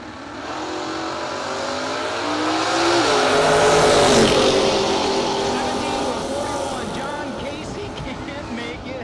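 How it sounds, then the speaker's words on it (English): A 1970 Chevrolet Chevelle drag racing at a no-box event, its engine roaring loud and swelling toward a peak midway before fading, with an announcer talking over it. "Beautiful 1970 Chevrolet Chevelle on a 650."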